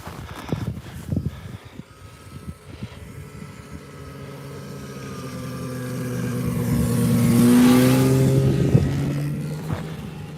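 A snowmobile passes on a snowy ski trail in Ylläs, Lapland, Finland; its engine whine rises as it draws near, peaks loud for a few seconds, then drops in pitch and fades away.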